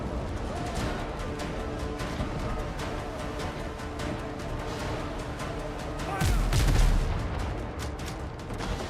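Ship cannons fire in the pirate naval game Windrose, a dense, loud, continuous barrage of rumbling blasts topped by one heavier boom near the end.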